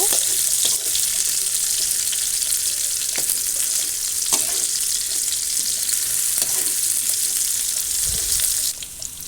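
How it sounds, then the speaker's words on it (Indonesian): Shallots and spices stir-fried in a pan for a tofu dish, a loud continuous sizzle with intermittent scraping and stirring clicks, close and steady without speech. "Masukkan bawang indianya, tumis-tumis sampai bawang indianya ini layu."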